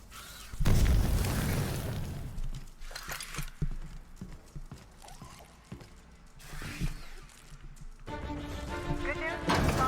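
A rocket launcher explosion booms in The Outer Worlds, a heavy blast followed by rattling mechanical clatter and further thuds, with voices talking in the game.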